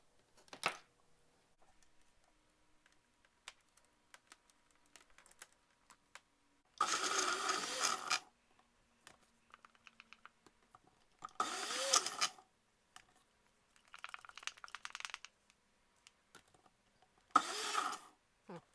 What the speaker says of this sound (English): it would also help if I plugged in a blender